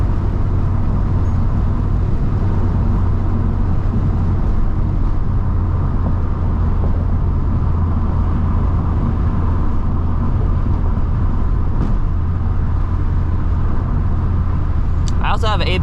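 A manual Volvo S60R with a big turbo drives a canyon road, its engine a steady loud low drone with road rumble throughout and a brief high whistling flutter near the end.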